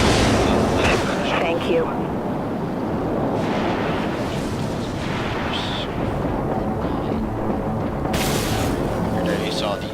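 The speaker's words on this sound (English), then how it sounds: "There you saw the rapid fire of the Nox-class" Nox-class artillery cruiser in the Dreadnought game firing rapidly: a continuous barrage of booming blasts and crackling impacts, loud and dense, with a voice speaking briefly over it.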